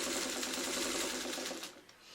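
A sewing machine runs steadily, stitching blue and white quilt fabric through a leader-ender for a Birds in the Air quilt block, close and continuous before slowing to a stop.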